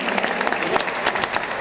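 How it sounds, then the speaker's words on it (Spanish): Crowd at a gaming festival applauding the Gamertech staff, brisk continuous clapping from many hands, close and lively over the short stretch. "Un aplauso para ellos, por favor, de verdad."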